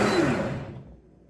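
A kitchen blender whirs on its smooth setting while blending hot sauce ingredients; the steady broadband roar is loud at first and then fades away over about a second.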